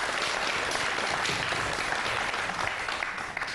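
Crowd at a political rally in Dixinn applauds loudly and steadily for a UFDG deputy, a dense wash of clapping that holds throughout without a break.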